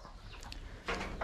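Laying hens on a farm flock of about 160 cluck softly over a low background hum, with a few short clucks early and a louder burst of clucking near the end.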